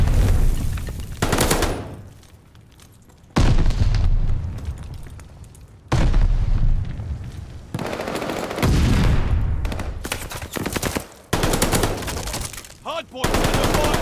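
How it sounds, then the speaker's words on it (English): Video game gunfire around a hardpoint in a competitive scrim, with loud bursts of automatic fire and booming shots in repeated heavy volleys separated by brief quieter gaps, and a voice briefly heard. "Hardpoint under fire."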